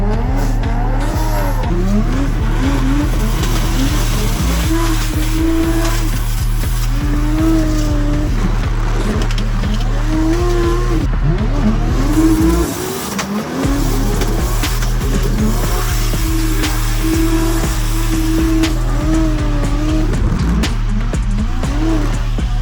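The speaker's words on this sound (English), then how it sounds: "we're going to do a fat skid in the VL" A Holden VL Turbo roars loudly throughout a sustained burnout at an LZ World Tour event in Canada, engine droning at high revs while the tyres squeal and skid continuously, with a brief dip in the noise midway.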